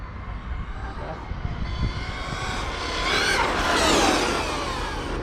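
An HPI Savage RC monster truck's nitro engine buzzes and revs, rising to a louder high-pitched whine mid-clip before easing slightly, with a person talking over it.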